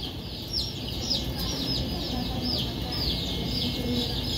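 Ten-day-old chicks on a poultry farm peep in a dense, continuous chorus of high chirps, with rooster-like clucking and a low rumble of farm noise underneath.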